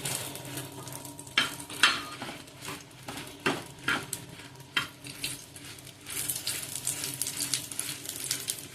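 Coriander seeds, fenugreek and cumin fry in a pan for an Udupi-style fish dish, crackling and sizzling with intermittent scraping stirs and clinks of a spoon against the pan, close and moderately quiet.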